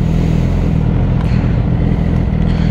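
A Yamaha R6 sport motorcycle engine runs at a loud, steady idle, a dense low rumble with rapid exhaust pulses held constant and close throughout.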